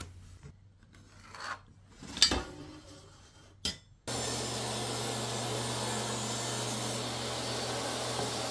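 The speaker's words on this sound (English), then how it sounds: "then I cut it down to size on the table saw" Table saw cutting through a scrap wood backer board, a few faint scrapes and knocks followed by the saw switching on into a loud, steady whirring hum that carries on to the end.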